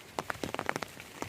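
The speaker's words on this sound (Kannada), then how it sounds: "ಚೆನ್ನಾಗಿ ಸಣ್ಣಕ್ಕೆ ಸೋನೆ ಥರ ಬರ್ತಾಯಿದೆ" Light drizzle falls as faint, scattered raindrop taps and patters on a surface, quiet and irregular, with no talk.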